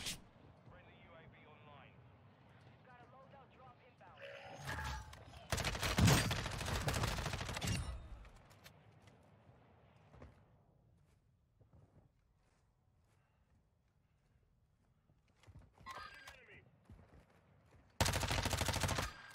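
Bursts of gunfire ring out in a shooter video game, a sustained loud volley in the middle and another burst at the end, separated by quieter stretches while players talk excitedly.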